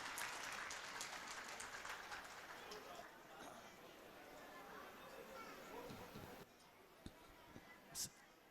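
Applause from a crowd at the annual Prajapati Samaj community gathering in Mumbai, welcoming a donor. Dense, steady clapping fills most of the stretch, then thins to a few scattered claps and a brief knock near the end, with voices mixed in.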